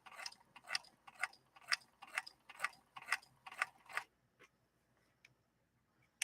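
A 1958 Singer 222K sewing machine stitches slowly through canvas, giving about ten evenly spaced mechanical clacks at a steady rhythm before stopping, followed by a few faint clicks.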